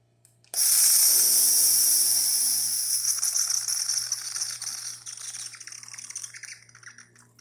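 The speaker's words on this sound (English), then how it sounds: "And hot water." A Saeco Incanto espresso machine dispenses hot water with a sudden loud hissing rush that starts abruptly and slowly fades while sputtering, over a steady low machine hum.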